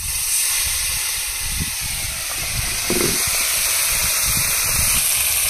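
Fish oil hitting a hot pan gives a steady, loud hiss and sizzle that runs unbroken throughout, close and without speech, while vetki and bata fish are fried.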